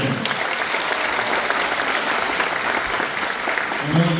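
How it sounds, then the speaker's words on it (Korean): An audience at a Korean Democratic Party convention for leadership candidates claps steadily in a dense, even round of applause that holds at a moderate level throughout. "힘찬 박수 한번 부탁드립니다"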